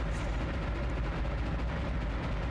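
A big laser cannon firing in Dead Space (2008), a dense, loud, continuous roaring blast with heavy low rumble that holds steady throughout without pause.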